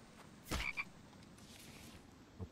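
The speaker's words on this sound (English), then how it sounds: "Oh, there's a frog." A single frog croaks in a video game, one short close croak followed by a quieter trailing call, against faint ambient game background.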